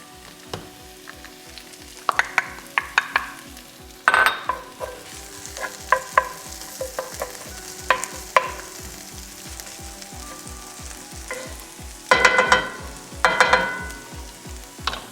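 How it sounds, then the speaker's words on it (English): Thinly sliced garlic fries and is stirred into a cooked-down pepper and onion mixture for shakshuka, a steady close sizzle broken by repeated scraping stirs and brief louder clatters. "we've got the garlic sliced thin, and it's going to be mixing around for 2 minutes inside of this pepper and onion mixture"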